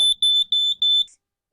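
An RV smoke alarm, set off by propane from a lighter, sounds four loud, piercing electronic beeps in a quick even rhythm, close by, then stops.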